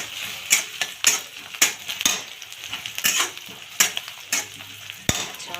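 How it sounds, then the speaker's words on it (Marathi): Chopped onion fries in a pan until reddish-brown for ridge gourd chutney: a steady close sizzle broken by sharp, rhythmic spatula scrapes about every half second, with no voices. "छान लालसर रंग येईपर्यंत फ्राय करून घ्यायचा आपल्याला कांदा।"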